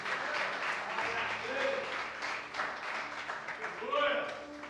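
A congregation at a church service applauds, with steady, moderately loud clapping from many hands running throughout and voices speaking over it.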